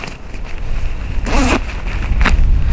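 A Carinthia Survival Down 1000 down sleeping bag is unzipped in two loud, close zipper pulls, one longer rasp and then a short second one, over a low rustling background without talk.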